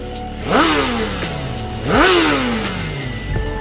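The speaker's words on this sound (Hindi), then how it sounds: "अंधेरे में बाइक इंजन की आवाज सुनाई दी।" A motorbike engine revs twice in the dark, each burst rising sharply in pitch and then slowly falling away, loud and close, with a rattling idle between the revs and no voices.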